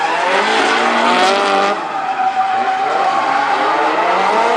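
Drift cars roar past in a continuous loud engine howl with tire squeal as they slide around Atlanta Motor Speedway during the 2005 NOPI Nationals drifting event.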